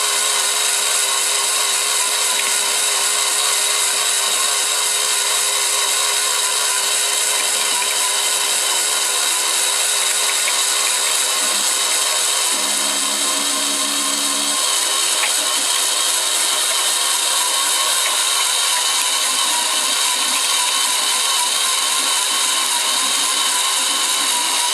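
A homemade shredder grinds 3D printed plastic parts, a loud, steady mechanical whine with layered tonal hum running throughout, a brief lower grinding burst midway, and no voices.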